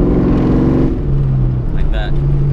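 Supercharged car engine with a steady high whine over a rumbling exhaust, several short crackling pops near the end, loud and close with a person talking throughout.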